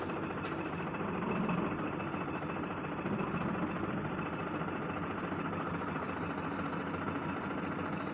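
A vehicle engine runs steadily as it reverses along a road beside a school compound, a continuous low rumble at an even level throughout, with no voices.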